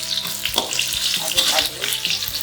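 Red chili and onion fry in a pan, a steady crackling sizzle with small irregular pops and stirring scrapes, close and without talk.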